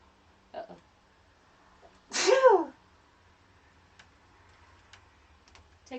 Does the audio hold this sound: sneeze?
yes